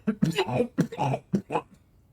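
A series of short, harsh coughs and throat-clearing sounds, close and moderately loud, coming in quick bursts with brief gaps.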